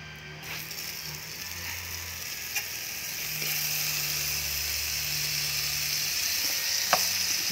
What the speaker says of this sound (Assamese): টাৱাত বাটাৰ দি ভাজি টাৱা গৰমাই ল'লোঁ